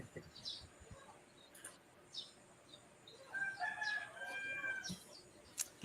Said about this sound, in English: Roosters, yeah, there's a lot here in the farm.